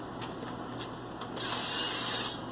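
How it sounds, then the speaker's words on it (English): Cooking spray hisses onto an air fryer basket while hamburger steak is being made, with short puffs followed by a steady loud close spray lasting about a second before stopping. "spraying the bottom of my air fryer, which is non-stick if I'm not mistaken"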